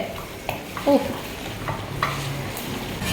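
Chicken masala for biryani is stirred in a pan, with a spoon scraping and knocking the pan in a few brief strokes over a soft sizzle, close and alone.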